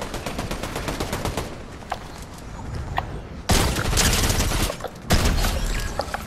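Continuous rapid gunfire in a shooting video game, dense overlapping bursts with louder barrages crashing in partway through, close and loud throughout with no speech.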